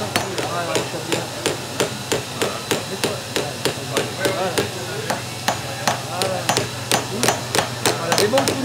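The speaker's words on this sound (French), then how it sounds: "des bons coups de marteau" Hammer blows forging a Thiers knife blade, sharp metallic strikes landing in a steady fast rhythm about twice a second, loud and close throughout, with faint voices in the background.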